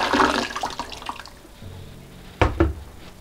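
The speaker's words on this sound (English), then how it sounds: "So I've got another liter of boiling water. This is just going to make the sugar dissolve easier." A liter of boiling water is poured onto sugar for homemade mixed berry wine, a loud splashing gush that fades, then a couple of brief knocks and splashes near the end.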